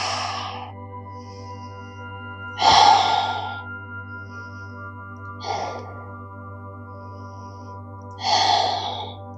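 Someone breathes deeply while holding a yoga forward fold. Three or four slow, audible exhales come at spaced intervals over a low, steady background hum.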